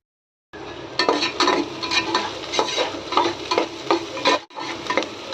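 Small shallots sauté in hot oil for a village mutton bone kulambu, a steady close sizzle broken by repeated scrapes and clacks of a spoon stirring against the pan.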